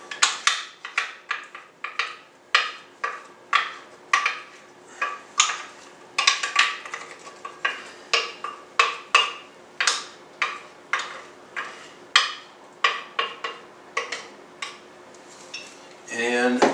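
A spoon scrapes homemade applesauce out of a plastic Rubbermaid bowl in a steady series of about twenty-five short, close scrapes, ending with a louder clatter.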